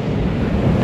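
Ocean surf at night on the beach at Puerto Arista rolls in as a continuous deep rumble and wash, heavily buffeted by wind on the microphone.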